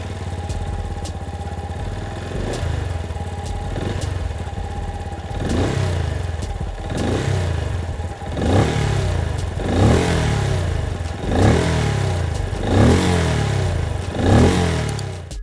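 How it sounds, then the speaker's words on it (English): Exhaust of a Benelli Imperiale 400 motorcycle, heard up close, idling with a lumpy single-cylinder beat and then revved repeatedly in a regular series of sharp blips that each fall back to idle. "Benelli is known for making some sweet sounding machines and the Imperiale 400 is no different. Let's check out its exhaust note."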